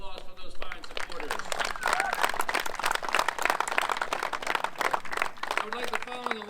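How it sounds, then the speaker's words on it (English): Applause for supporters at a homecoming baseball field re-dedication, a steady crowd clapping that holds for several seconds, with voices and cheering mixed in. "Let's give a round of applause for those fine supporters"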